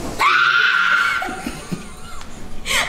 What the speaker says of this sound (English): it doesn't help when you scream like that